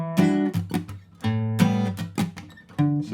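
Rhythmic acoustic guitar strumming plays the second and fourth chords of a song intro, a quick series of close, ringing strums in a syncopated pattern with brief dips between phrases.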